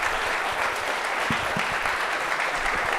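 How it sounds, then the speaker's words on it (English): Audience applause after an on-stage debate with MAGA voters, a steady, dense wash of clapping from a crowd filling the whole few seconds at even loudness. "Everyone, big round of applause."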